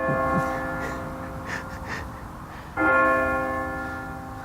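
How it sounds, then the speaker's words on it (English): Church bells ring with sustained, ringing tones, one struck clearly near the middle and swelling loud, heard alone outside the church with faint breathing nearby. "So here, get the bells. All right, here go the bells."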